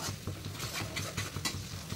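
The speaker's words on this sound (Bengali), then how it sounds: "পেঁয়াজটা ভাজা হয়ে গেছে, এর মধ্যে আমি মশলাটা দিয়ে দেবো।" Spices being stirred into fried onions in a pan, a soft close scraping and stirring with a gentle sizzle underneath, steady for a couple of seconds.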